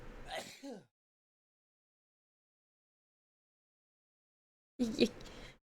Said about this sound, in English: A man who has just violently sneezed on me.